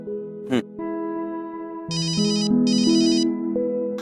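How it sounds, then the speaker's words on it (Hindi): A phone call being placed gives a short tapping blip, then steady electronic tones shift pitch and a repeating ringback pattern pulses twice, clear and close with nobody speaking. "अब जेलो जी फोन लगाया जाए शिखा जी को तुरंत प्रभाव से"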